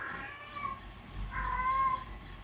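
An irritated house cat gives two whining meows in quick succession, the second longer and louder, over a low background hum indoors.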